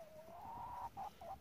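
Chickens clucking in a pen, a run of close, steady clucks followed by two shorter bursts, with no talking over them.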